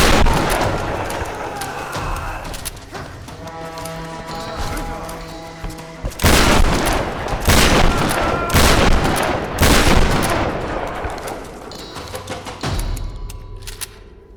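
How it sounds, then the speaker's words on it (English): Shotgun blasts at close range in Tomb Raider: Definitive Edition, a run of loud, sharp booming shots spread over the stretch, mixed with game noise and some talk. "So the shotgun at short range, just like you would expect, makes absolute mincemeat out of these guys"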